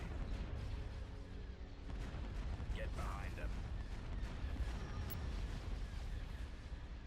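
Laser cannons fire in the Star Wars space strategy game Thrawn's Revenge during a fleet battle, a dense continuous barrage of booming, crackling shots under steady game noise, with someone talking over it.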